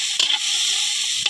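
Potatoes sizzle steadily in a hot pan while being stirred, with two brief scraping strokes over the continuous frying hiss.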